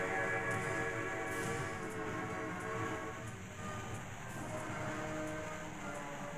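A freight train rolls along in the video game Train Frontier Classic, a steady rumbling drone of wheels and cars with faint tonal hums, heard alone at moderate level.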